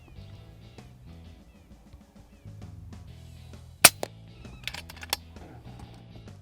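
FX Impact air rifle fired at ground squirrels outdoors, giving one sharp crack near the middle followed by a few smaller snaps, over a low steady hum with no talking.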